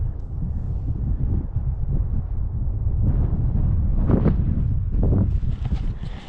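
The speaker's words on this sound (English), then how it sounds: "it's like really windy right off this this cliff here" Strong wind buffets the microphone on a cliff overlook, a loud continuous rumbling roar with gusts swelling toward the end.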